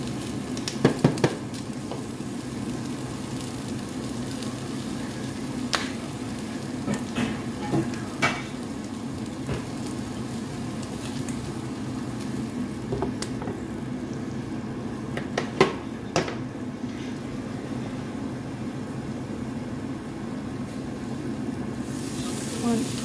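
Steady, soft sizzle of capsicum, bacon and onions cooking in a lidded pan, a constant low frying hiss with occasional faint pops and clicks throughout.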